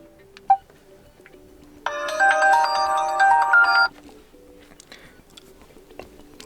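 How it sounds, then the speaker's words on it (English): Ringtone preview on an LG Q6 smartphone: a bright, repeating electronic melody plays for about two seconds at moderate loudness, preceded by a single short tap-like click. "We can also change ringtone."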